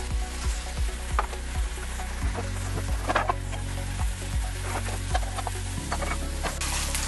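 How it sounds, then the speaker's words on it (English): Sausage-substitute hamburger patties fry over medium heat in a pan, a steady close sizzle running throughout with a low repeating thump and occasional sharper crackles and scrapes. "The frying went from a sizzling to it slowed down quite a bit."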